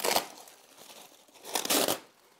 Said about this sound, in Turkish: Şimdi kutu açılımını yapacağız ve sonrasında size nasıl temizlendiğini göstereceğim.